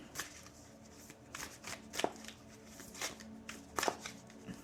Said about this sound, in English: I'm going to shuffle some tarot to get some additional messages